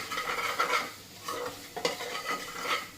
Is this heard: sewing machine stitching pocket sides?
no